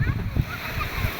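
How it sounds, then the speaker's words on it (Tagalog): Sea waves splash and wash against a shore at sunset on a windy evening, a steady churning roar close by with gusts of wind and a voice faintly in the mix. "Ganda ng alon."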